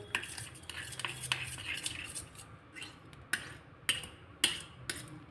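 Light clinking and scraping of a utensil mixing a mustard oil mixture against a bowl, irregular taps and strokes, quiet and close, with no talking.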